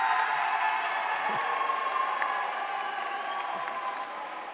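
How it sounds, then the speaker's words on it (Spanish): Audience at the 2015 Robocampeones robotics competition claps and cheers for the third competitor, a steady wash of crowd applause with scattered whoops that fades slightly toward the end. "Aplausos para el tercer competidor."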